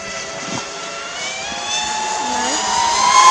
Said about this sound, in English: They're flying the super noisy drone.